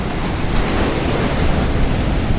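Rough monsoon sea surf pounds the shore in a loud, continuous broadband roar with steady wash and wind buffeting, no voices.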